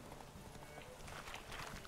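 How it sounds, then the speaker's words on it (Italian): Horse hooves trotting in the video game The Witcher 3 during a horse race, a faint, steady clip-clop rhythm under a soft wash of game sound and a speaking voice. "Andiamo al trotto, ragazzi, non vogliamo stancare troppo il cavallo."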